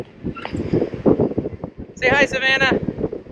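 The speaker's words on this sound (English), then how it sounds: "It's really, really, really windy right now." Gusty wind from an approaching storm buffeting the microphone on a pier at Lauderdale-by-the-Sea with low rumbling bursts while people talk and a child answers.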